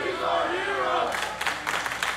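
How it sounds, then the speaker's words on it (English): Wrestling crowd chanting in an arena, a dense sustained roar of many voices with rhythmic swells, then sharper bursts of cheering near the end. "This crowd chanting, "He's our hero,""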